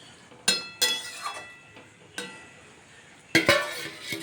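Metal clinks and clanks from a pan of Bengali rui fish curry with potato and pointed gourd as a lid is set over it, several sharp separate knocks close by in a quiet kitchen.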